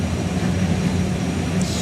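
Turbine-powered drag car Fire Force 2 starting up at a drag racing meet, a steady, dense, loud roar filling the whole moment with no breaks.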